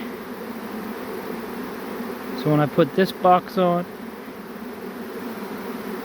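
A large honey bee swarm drones steadily throughout, a dense continuous buzz close by, while someone briefly talks over it partway through.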